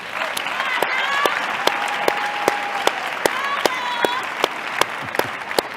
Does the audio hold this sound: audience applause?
yes